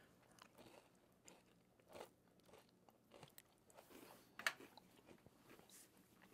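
Close-up crunching and chewing of a chocolate chip crunch cookie, irregular crisp bites and grinding with small pauses between, quiet and intimate with no talking.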